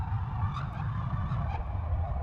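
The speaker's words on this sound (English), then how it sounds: "This is the Canadian geese" Sampled Canada geese honks, a few short nasal calls, sit buried inside a dense, droning electronic industrial mix, faint and brief against the heavy low hum.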